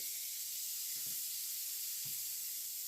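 A fried pie drops into a hot skillet and sizzles, a steady, bright hiss of frying with a couple of soft knocks underneath.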